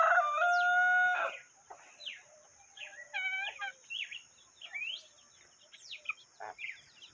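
On a rural farm a rooster lets out one loud, close crow at the start, followed by scattered clucks and calls from chickens and other fowl, with birds chirping in the background.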